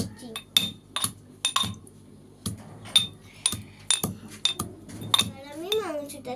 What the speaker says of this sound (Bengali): এবার আমি হচ্ছে মশলাটা হামানদিকে বেটে নেবো।